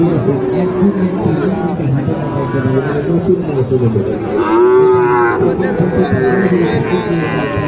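Cattle moo loudly and repeatedly amid a busy crowd of voices talking in the background at a traditional cattle market selling bull calves.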